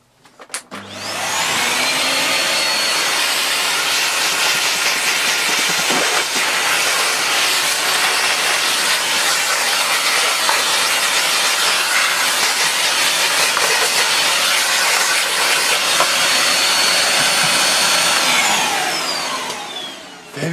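AmazonBasics bagless cylinder vacuum cleaner fitted with a Hitachi dusting brush, starting up and running loud and steady for about twenty seconds with a broad hissing roar and whine, then winding down at the end.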